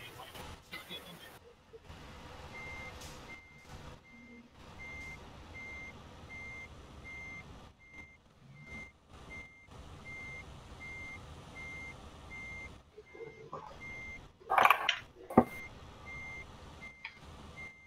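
A truck in Euro Truck Simulator 2 reverses with evenly spaced electronic warning beeps, moderately loud over a low engine rumble. Bursts of clatter and people talking come in and out around the beeps.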